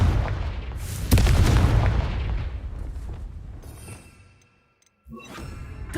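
In a Harry Potter video game, a Confringo blasting spell lands with a heavy booming explosion that rumbles and crackles, fades to near silence, then gives way to a fresh burst of crashing debris.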